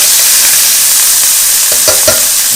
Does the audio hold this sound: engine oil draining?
no